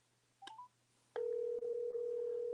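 Telephone keypad tones sound in a quiet room: a couple of short dialing beeps, then a long, steady tone that holds to the end.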